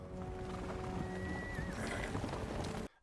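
Horses of the Rohirrim charge in a Lord of the Rings battle scene, with dense galloping hoofbeats and a loud whinny rising over the roar of the cavalry, sustained until an abrupt cut.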